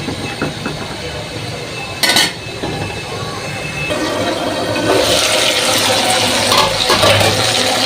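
Stirring biryani masala and meat in a slick wok, with a sharp metallic clink of the spatula against the pan and a frying sizzle that swells louder as the mixture is turned over, close and without speech.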